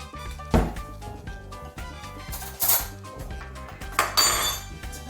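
Dishes and cutlery clink and knock as a dish is picked up to taste soup, with scattered sharp taps and rattles over several seconds and low background hum.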